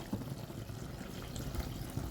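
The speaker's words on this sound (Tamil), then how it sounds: "புளி தண்ணி ஊற்றிக்கலாம்." Tamarind water poured into a pot of okra kuzhambu, a steady low liquid splash and gurgle running throughout at close range, fairly quiet, with no talking.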